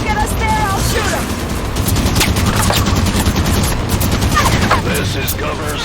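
Dense Halo 5: Guardians firefight, with rapid automatic weapon fire and bursts running continuously over a loud game soundtrack, voices and effects mixed in throughout.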